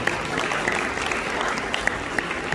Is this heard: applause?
yes